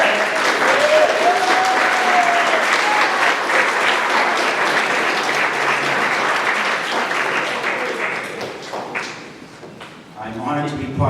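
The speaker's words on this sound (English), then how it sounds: "I'd like you to stand up and give a round of applause to your parents." Sustained, dense applause from a graduation audience standing to honor the parents, steady and loud for several seconds before tapering off, with a voice emerging near the end.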